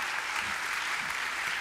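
Audience applause at an agricultural awards evening in Côte-d'Or, a dense, steady wash of many hands clapping that stays even and continuous for the short stretch, with no voices standing out.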